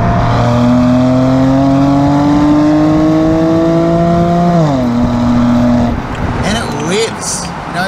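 BMW Z4 2.5 litre straight six engine revving, a loud close tonal whine that climbs steadily, then drops away as the revs fall, ending in a lower idle with some clatter.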